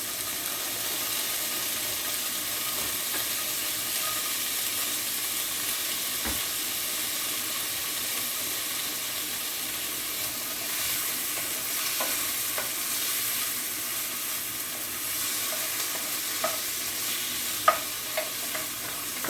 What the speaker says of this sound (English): so they're gonna give us a little sizzle